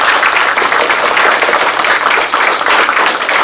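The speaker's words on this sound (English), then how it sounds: "So let's give them another round of applause." A school audience gives a student orchestra a sustained round of applause, dense and steady clapping filling the room from start to finish.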